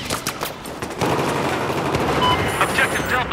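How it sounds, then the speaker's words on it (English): A machine gun rattles in a video game, fast continuous bursts beginning after a short lead-in of scattered shots, loud and close under a radio-style voice. "I have eyes on the machine gun east of your location."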